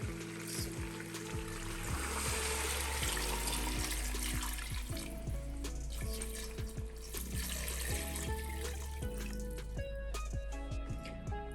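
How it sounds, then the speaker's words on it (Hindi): Water splashes and gurgles continuously into a metal pot of fried beef trotters, with clinks and knocks from the vessel along the way. "अब इसमें पानी ऐड करेंगे 2 लीटर।"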